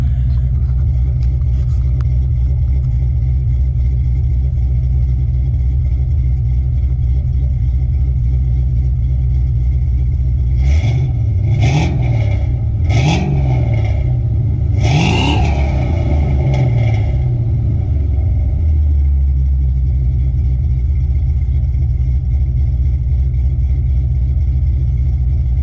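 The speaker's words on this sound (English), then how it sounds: "I'll let you listen to the cam," A 2003 Ford Mustang GT V8 with a stage 2 cam idles with a steady low rumble, then takes a few quick throttle blips in the middle before settling back to a choppy idle.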